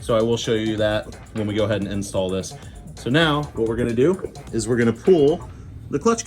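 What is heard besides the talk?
No everyday noises stand out.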